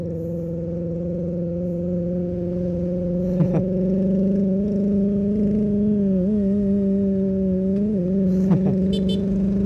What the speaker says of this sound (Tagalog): Tricycle na tunog big bike.